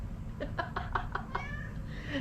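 A cat meows in a run of short, repeated cries, several in quick succession, then a longer drawn-out call, faint against a steady low background rumble, with no talking.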